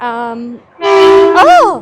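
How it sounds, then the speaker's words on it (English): A passing train sounds two loud, close horn blasts with a brief gap between them, and a startled voice cuts in over the second blast. "that's a train"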